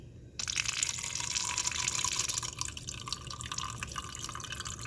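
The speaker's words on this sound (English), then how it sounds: "So I'm gonna use cold water so I don't start heating it with hot" Cold tap water pours steadily into a container for several seconds, a close, continuous splashing fill with no talking.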